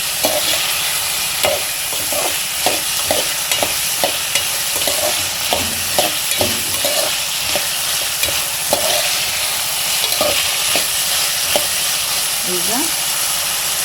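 Vegetables sizzle loudly in a pan for bansi rava upma while a spoon scrapes and stirs in quick repeated strokes, close and continuous, with a steady frying hiss underneath.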